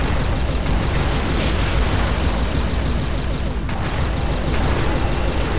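Frag missiles fired by a robot in the Descent 3 video game, a dense continuous roar of blasts and bursts that stays loud throughout with no break.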